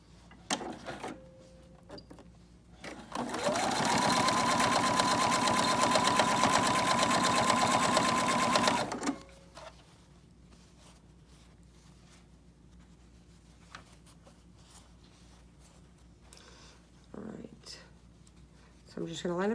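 A sewing machine stitches bias tape onto a homemade fabric dust mask in one steady, loud run of about five seconds, with quiet handling before and after.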